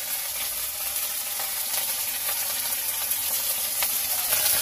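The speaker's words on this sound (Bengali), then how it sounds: "একটু ভাজা হোক" Even, continuous hiss of prawns frying in a pan with ginger and cumin paste, fairly close, with faint occasional crackles and no voices.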